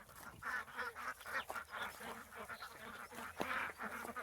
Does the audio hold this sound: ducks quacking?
yes